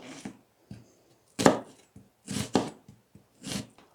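A knife chops through an onion on a cutting board during soup preparation, giving a handful of crisp, separate thuds spaced irregularly, some as quick doubles, close and fairly loud against an otherwise quiet kitchen.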